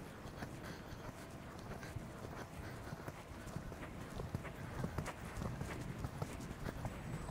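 Horse hooves clip-clop steadily on cold ground, an even walking rhythm of close, distinct strikes continuing throughout with no talking.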